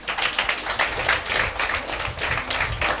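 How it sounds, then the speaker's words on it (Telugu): A church congregation at a Telugu sermon by Rev Dr K J Victor breaks into steady, dense clapping, a close and continuous patter of many hands lasting a few seconds. "చప్పట్లు కొట్టడు ఒకసారి."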